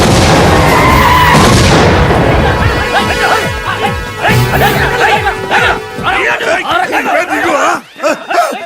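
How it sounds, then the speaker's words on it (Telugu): A small bomb goes off in a Telugu comedy film scene: a loud, close crash and boom opens the clip, followed by agitated voices talking and shouting over the fading aftermath. "మీరని తెలియక చిన్న బాంబు పెట్టాను"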